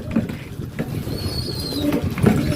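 Pigeons being kept for deworming give soft, low coos in short bursts, with light rustling and a faint flutter of wings nearby and no talking.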